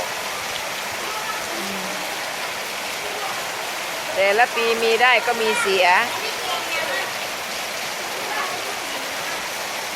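Steady rain falls over Thai farmland, a broad even hiss running throughout, with a voice talking briefly in the middle.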